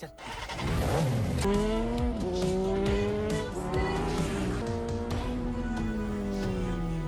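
A motorcycle engine in a film scene rides away with loud revving that rises and then holds steady, over busy background noise and what may be tire screeching, continuous for several seconds.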